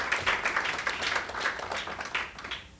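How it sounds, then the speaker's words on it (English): An audience at a legislative summit applauds the event's sponsors, a dense burst of many hands clapping that stays full for a couple of seconds before thinning out at the end. "A big round of applause to all our sponsors."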